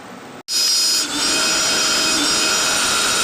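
After a brief quiet start, an electric grinder kicks in with a loud, steady high whine while blending whole cumin, ginger and green chillies into paste, dipping once before running on evenly without talk.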